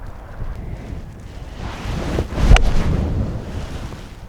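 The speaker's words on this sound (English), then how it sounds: "Wind's just got very strong." Strong wind gusts across a golf course in Portugal, buffeting the microphone with a low, rough roar that swells into a heavier gust about halfway through.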